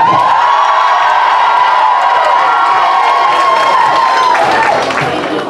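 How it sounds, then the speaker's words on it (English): Loud audience cheering, shouting and whooping from a crowd at a school variety show lip sync battle, backing a John Bon Jovi act; a sustained roar throughout that eases slightly at the end. "So, if you want to cheer for John Bon Jovi,"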